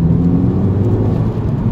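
A Volkswagen MK5 Golf GTI engine pulls downhill under light throttle, a close, steady mid-pitched drone with a low rumble lasting under two seconds, no voices.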